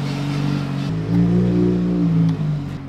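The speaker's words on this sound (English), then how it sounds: "Daigo, show me Evo in drift." Mitsubishi Evo drifting, its engine revving hard in a sustained droning roar that rises in pitch partway through, close and loud with no talk.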